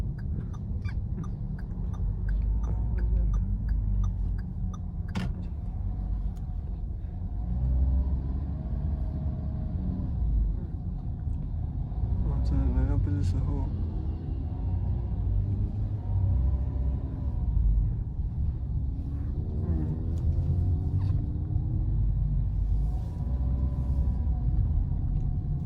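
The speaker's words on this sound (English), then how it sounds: "I'm going to put it into the power mode, which is the sport mode, because we're going to do a little hill run." A 2023 Perodua Alza H MPV in sport mode climbs a hill, its engine a steady low rumble with continuous road and tyre noise throughout, heard from inside the cabin with no talking.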